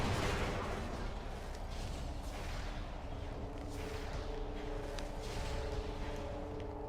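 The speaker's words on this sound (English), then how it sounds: "Vigilance class turrets. Heavy weapon fires powerful energy blasts." Heavy energy blasts from Vigilance-class turrets in Metroid Prime 2: Echoes boom repeatedly over a dense, rumbling battle backdrop with sustained tones, moderately loud throughout.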